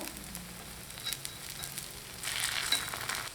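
Soft, steady sizzling of pearl millet paniyaram batter frying in a paniyaram pan over medium flame, quiet and close, with faint crackles rising slightly toward the end.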